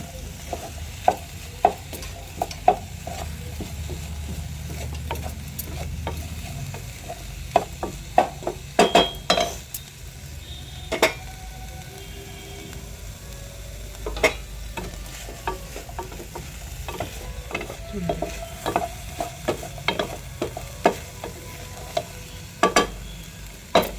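Food fries in a pan with a continuous low sizzle, punctuated by frequent sharp scrapes and taps of a spatula stirring against the pan at an irregular pace, no talking.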